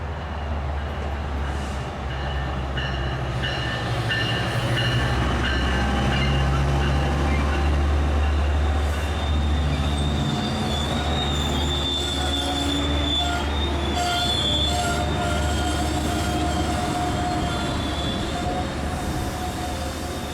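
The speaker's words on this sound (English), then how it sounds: "Metrolink 704, a 91 Paris Valley service to Paris, pulls past Amtrak 581" A Metrolink commuter train led by an F125 locomotive rolls past at Fullerton, its wheels squealing in long, loud, high-pitched tones over a constant low rumble from the engine and cars throughout.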